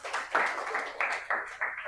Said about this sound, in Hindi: एक सबसे बड़ी एप्रिशिएशन मैं चाहता हूँ कि आप तालियां बजाओ